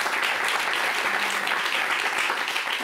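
Sustained applause from a French television tech show's studio audience, dense and steady clapping filling the room at a constant level throughout, with no pauses.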